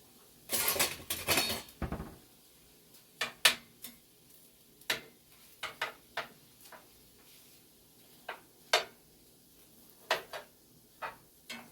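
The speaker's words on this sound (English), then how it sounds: "I don't want to mash my potatoes, so what I think I'm going to do is use a spatula." Sparse, sharp scrapes and taps of a spatula against a pan as it breaks up potatoes and onion, preceded by a louder clatter of cookware at the start, each hit close and isolated in a quiet kitchen.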